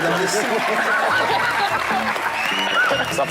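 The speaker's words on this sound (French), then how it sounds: "On peut encore les applaudir sinon" An audience applauds the jury of a cooking competition show, clapping blended with chatter and some chuckling, voices prominent close by over a steady background of hands.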